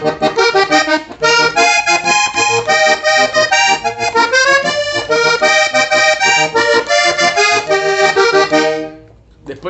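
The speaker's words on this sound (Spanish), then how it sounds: "el acordeón hace una intervención para llamar al cantante al coro, que suena así." Accordion playing a bright, busy vallenato fill from a song, the passage that calls the singer into the chorus, with dense melodic runs over bass accompaniment, loud and continuous before dropping away at the end.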